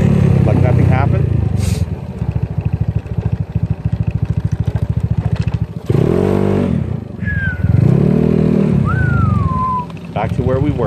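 A ZNEN ZN150T-9 scooter is ridden with a continuous engine drone and a few revving surges, close by and loud, while people talk over it.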